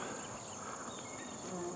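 Steady insect buzzing close by, from a bee in a luffa flower on a garden fence, held as a faint continuous drone throughout, with no talking.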